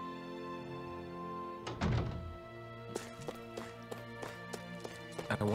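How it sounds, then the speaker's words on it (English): Hammers bang on stone in the video game Tales of Arise, a heavy thud followed by a string of irregular, sharp knocks over steady background music. "I always love the sound of hammers banging away"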